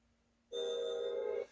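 An old-fashioned telephone bell rings in one steady burst of about a second, loud and clear against a near-silent background, from the opening of the 1952 Vincente Minnelli film The Bad and the Beautiful.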